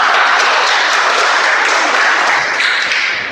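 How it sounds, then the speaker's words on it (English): An audience at a speech meeting applauds a guest speaker, a dense, close burst of many hands clapping that holds steady and then tapers slightly at the end. "Give me a round of applause for him."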